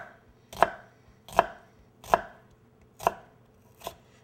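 A knife dices an onion on a board with five sharp, separate chops spaced about a second apart, close and clear against a quiet background.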